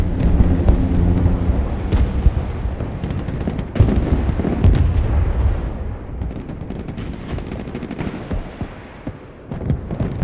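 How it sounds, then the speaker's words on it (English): Artillery fire in the video game Broken Arrow, a dense, continuous barrage of booming impacts and crackling blasts rolling on for about ten seconds, loud and chaotic, easing slightly toward the end. "I shoot with artillery on the engineers in the back."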